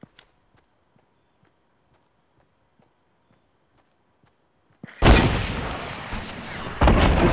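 Faint taps and clicks precede a sudden loud burst of Fortnite Mobile gunfire, a dense rattling barrage that runs to the end with a second surge near the close.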